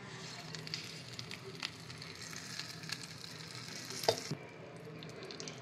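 Hot tempering of asafoetida and curry leaves poured into a tangy red tomato chutney, giving a steady close crackling sizzle with scattered pops and one sharper clink near the end; no talking.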